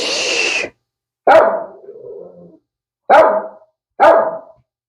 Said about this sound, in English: He will bark and bark and bark until I feed him